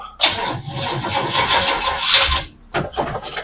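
A car engine with a weak battery cranks with a grinding whir for about two seconds, pauses, then sputters again briefly, heard close by.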